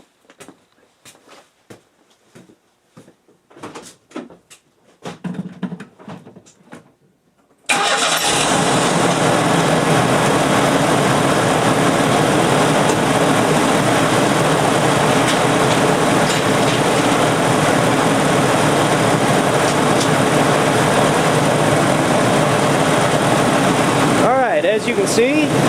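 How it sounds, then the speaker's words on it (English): A few faint clicks and rustles, then an engine cranks to life and settles into a loud, steady idle that runs for most of the clip before cutting off. "So let's start the truck up, and we're going to let it sit and idle"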